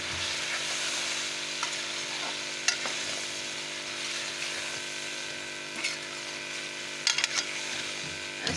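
Spices stirred through chicken pulao in a pot with turmeric, fenugreek, garam masala and dry coriander, giving a steady low sizzle with faint scraping and a few soft clinks over about eight seconds and no talking.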